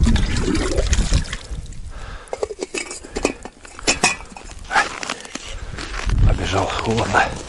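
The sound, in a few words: scooping water for tea in frozen winter camp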